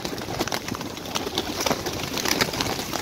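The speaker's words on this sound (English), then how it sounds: "There are so many pigeons." Pigeons coo amid steady outdoor ambience in Regent's Park, London; the soft calls repeat under a continuous wash of park noise, with no talking.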